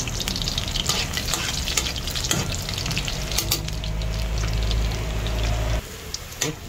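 Garlic sizzles steadily in hot cooking oil in a pan for a pork soup, a loud continuous frying hiss with occasional stirring scrapes, and the sizzle intensifies briefly before cutting off near the end.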